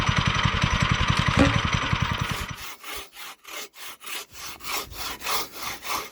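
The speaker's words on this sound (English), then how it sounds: "Relax sawing, enjoying the view while cutting wood." A handsaw cuts through a big piece of wood outdoors at a campsite in steady back-and-forth strokes, continuous and dense at first, then settling into distinct rhythmic rasps, close and fairly loud.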